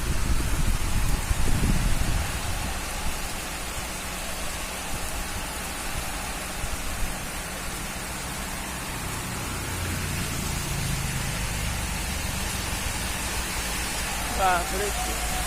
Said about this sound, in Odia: କେତେ ଜୋରରେ ବର୍ଷା ଦେଖୁଛନ୍ତି, ସବୁବେଳେ ବର୍ଷା ହେଉଛି।